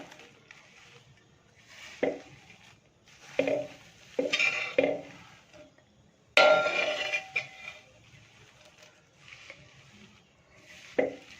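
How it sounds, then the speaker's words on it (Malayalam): Curry leaves and grated coconut are stirred in a heavy, thick-bottomed uruli, giving irregular close scraping and rustling strokes with occasional sharper knocks of the spoon against the pan. "കറിവേപ്പില മുഴുവനായും ചേർത്ത് കൊടുത്തിട്ടുണ്ട് നമുക്കൊന്ന് ഇളക്കിയെടുക്കാം"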